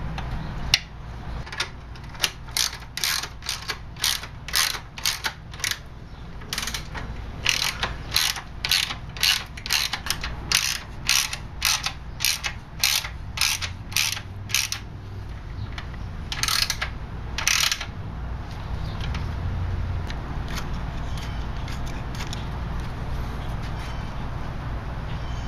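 A ratchet wrench tightening a bolt on a Mini panel van, a long run of quick, sharp clicking strokes in bursts with short pauses, close up over a low background hum, then a steadier mechanical rumble.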